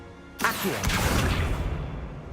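An Accio summoning spell from the video game Hogwarts Legacy gives a sudden rushing whoosh that starts sharply and then sweeps and swirls for over a second before fading under a soft background tone.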